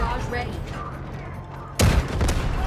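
Gunfire in the Delta Force video game, with a tank mode in play. A sudden loud burst of shots breaks in near the end, over steady game rumble and ambient noise.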